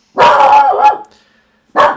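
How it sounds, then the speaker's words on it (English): A dog barks loudly and close by indoors, one drawn-out bark with a whimpering tail, a short pause, then a second sharp bark. "there goes the dog"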